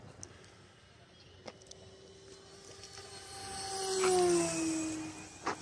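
An electric RC Flightline Focke-Wulf Ta-152 model plane diving at speed, a thin motor whine rising in pitch and swelling louder toward its closest pass before fading, heard from the ground against faint outdoor background.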